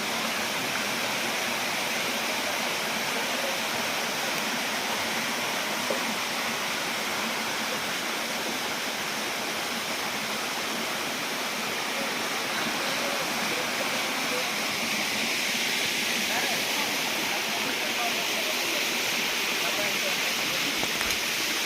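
A hidden waterfall in a forest near Dhenkanal, a dense, steady roar of falling water that fills the scene continuously and evenly throughout, close and loud.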